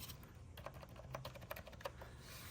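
Fingers tap on a retro typewriter-style computer keyboard, producing a steady run of crisp, close clicks at an even, moderate pace over a low background hum.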